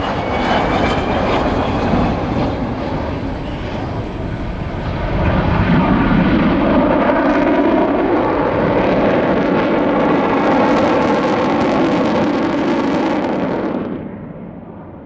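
A loud, roaring Avro Vulcan XH558 jet bomber passes nearby at an air display, a sustained thunderous engine howl that swells and then fades off at the end.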